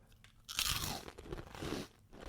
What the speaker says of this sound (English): Wow, good crunch on that.